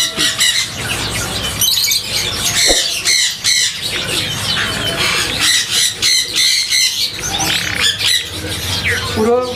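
Gouldian, owl, Bengalese and combassou finches at a breeding farm keep up loud, dense chirping and squawking calls close by throughout, with a faint voice underneath.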